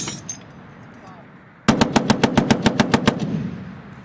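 A Marine .50 caliber machine gun in Afghanistan fires a loud, close burst of about ten evenly spaced, sharp reports after a quieter stretch of outdoor background.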